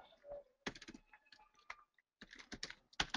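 Typing on a computer keyboard: short bursts of close key clicks separated by brief pauses, quiet and crisp.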